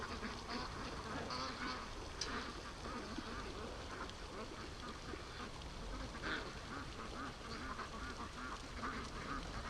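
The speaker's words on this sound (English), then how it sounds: "the ducks are freaking up in the yard" Free-range Muscovy ducks quack in a yard, scattered calls coming quietly and at a moderate distance over a low, steady outdoor background.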